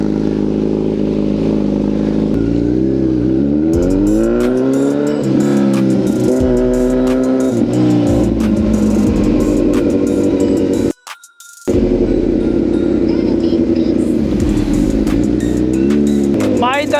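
Kawasaki Z900 superbike engine revving loudly after a cold start, repeated rising and falling throttle blips over a steady idle, with a brief cut near the end; people talk over it.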